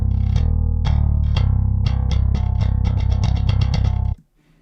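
Through the clean channel of a Eurobass III pedal, an electric bass plays a loud, close line of plucked notes that quicken toward the end, with full low tones and bright attacks before stopping suddenly.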